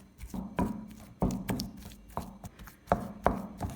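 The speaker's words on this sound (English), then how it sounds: "use a rolling pin to mash the sweet potatoes into a smooth paste" Cooked sweet potatoes being mashed with a rolling pin into a smooth paste: a series of soft, thudding presses and knocks at an uneven pace, fairly close and alone with no talk.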